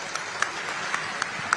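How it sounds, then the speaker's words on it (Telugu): Audience applause at a gathering honoring the success stories of new recruits: a steady, moderately quiet patter of many hands clapping, with a few sharper individual claps standing out, and no speech over it. "అందరూ కూడా గట్టిగా చప్పట్లు కొట్టి ఆశీర్వదించండి."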